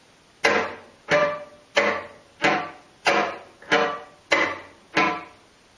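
Eight evenly spaced percussive bowed-string chop strokes, each a sharp scratchy attack with a short decaying rasp, played upbow in a steady rhythm, close and clear with no talking.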